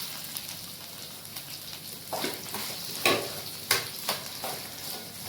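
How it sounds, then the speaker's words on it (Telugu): Chopped onions fry in a pan for a Telugu curry, a steady close sizzle with occasional louder crackles and spatters as they are stirred, no voices. "చూడండి, కొంచెం ఎర్రగడ్డలు ఫ్రై అయిపోయినాయి."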